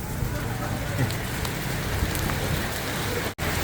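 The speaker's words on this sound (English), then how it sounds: "I put the umbrella away and just started a little downpour." Heavy rain downpour in Bangkok, Thailand, a dense steady hiss of drops pattering on surfaces close by, continuous and loud, briefly cutting out near the end.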